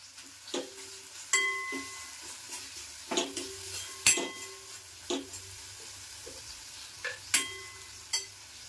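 Hot oil tempering in a pan with curry leaves, turmeric and coriander sizzles under repeated metal spoon scrapes and clinks, several sharp close stirs spaced irregularly over a steady frying hiss.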